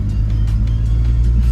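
A 1991 BMW E30 engine accelerates while being driven after a full restoration, a steady close low rumble with a faint rising rev throughout.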